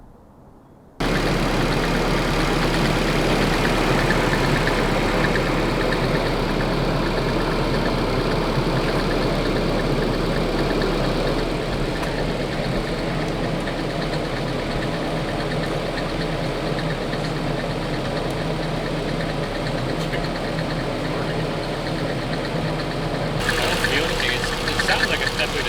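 Nissan KA24 engine idling with a timing chain rattle, a steady, close mechanical drone with a continuous ticking clatter lasting most of the stretch, starting abruptly after a brief quiet moment.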